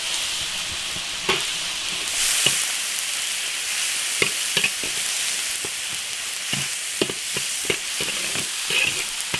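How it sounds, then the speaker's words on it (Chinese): Tomatoes stir-fried in an iron wok, a steady loud sizzle broken by irregular scraping and clacking strokes of the spatula at close range, no voices. "西红柿多给它炒一下"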